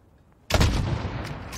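A single sniper rifle shot in a video game fires after a short quiet, a sharp loud crack followed by a long booming echo that trails off to the end.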